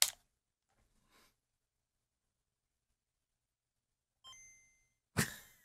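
Short electronic beeps from a Pokemon video game, with a brief bright tone burst near the end between otherwise near-silent gaps and a couple of faint clicks.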